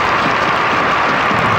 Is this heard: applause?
yes